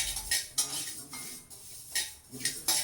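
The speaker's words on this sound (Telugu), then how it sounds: "ఇప్పుడు ఇదే కడాయిలో 1/2 కప్పు వరకు నువ్వులు వేసుకొని వేయించాలి." Sesame seeds are stirred in a kadai over a low flame, a spoon scraping and clinking against the metal in repeated strokes, close but fairly quiet.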